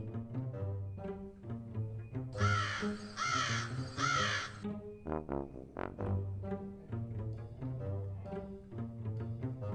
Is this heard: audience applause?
no